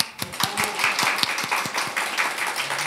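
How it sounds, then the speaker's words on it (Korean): A small indoor gathering claps along in a loose, rhythmic pattern of distinct hand claps, fairly close and moderately loud, with a few voices murmuring underneath. "박수 한번 쳐줍시다."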